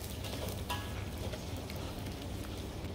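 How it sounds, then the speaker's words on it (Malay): Steady oily sizzling and crackling of anchovies frying in a pan, continuous and close, with faint clinks of stirring. "Kita goreng ikan bilis tu garing dulu dah."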